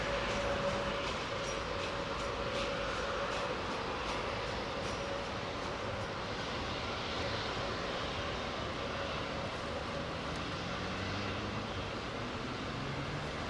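An Oman Air jet taxiing in at Heathrow gives a steady, broad engine rumble and whine that holds at an even level throughout, fairly near, with no talk.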